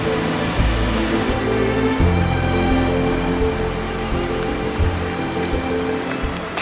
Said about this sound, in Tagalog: So lumakas po yung ulan, no?